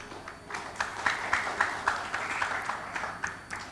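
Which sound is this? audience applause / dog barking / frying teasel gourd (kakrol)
audience applause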